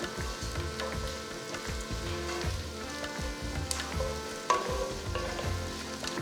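Sliced onions for Telangana bagara rice frying in hot oil in a pan, a steady crackling sizzle with scattered pops and a faint clink of a utensil partway through.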